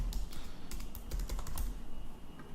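Rapid clattering keystrokes on a computer keyboard as a GraphQL query is typed, close and clear in a quick irregular burst that slows toward the end.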